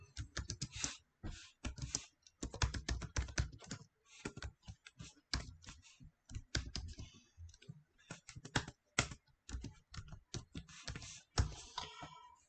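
Fast, irregular keystrokes clatter on a computer keyboard as code is typed, with dense bursts of clicks separated by brief pauses, close and dry with no talking throughout.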